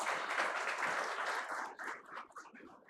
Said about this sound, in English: I think a round of applause for them.